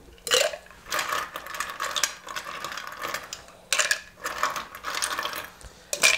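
Ice rattling hard inside a cocktail shaker during the shake for a Magnetic North cocktail, a close, loud run of rhythmic clattering bursts with short pauses between them.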